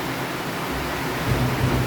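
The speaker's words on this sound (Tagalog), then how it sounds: "So grabe yung ulan." Heavy rain pours down in a dense, unbroken roar with no gaps, loud and close, swelling slightly toward the end.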